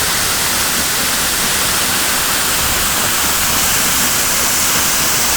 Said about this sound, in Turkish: İşte Sıra Kayalar Şelalesi bu.